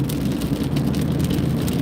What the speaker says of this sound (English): These are some big raindrops, man.